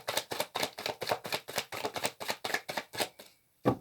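Steady rhythmic riffle of large tarot cards being shuffled, about a dozen quick flapping bursts in a row, close and fairly loud, then a pause and one final burst.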